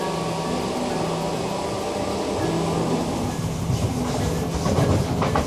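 Inside a six-car 'Pep' passenger train riding toward Southport, a steady low rumble and motor hum carry throughout, with wheel clatter and rattling growing slightly louder near the end. No one speaks.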